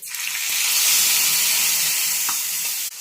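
Mustard seeds, cumin and asafoetida crackle in a spoonful of hot oil for a tadka, giving a bright, close hiss that swells and holds steady. Faint pops break through near the end.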